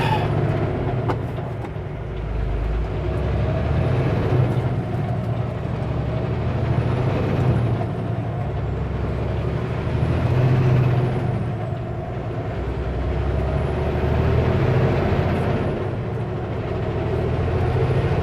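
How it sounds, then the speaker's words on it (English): A Super B semi truck grinds up a hill on a freshly repaved Canadian highway, its engine a loud, steady drone that holds for the full stretch with no one talking. "Come on, truck. You can do this."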